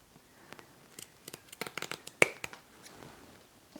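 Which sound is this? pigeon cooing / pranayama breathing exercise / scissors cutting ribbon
scissors cutting ribbon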